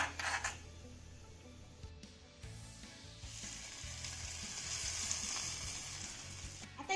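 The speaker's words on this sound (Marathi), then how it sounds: "आता ही चुरचुरीत फोडणी आपल्याला दह्यावर घालायची आहे" Hot oil tempering with asafoetida crackles and sizzles steadily for several seconds as it is poured onto yogurt, a bright continuous frying hiss close by with no talking.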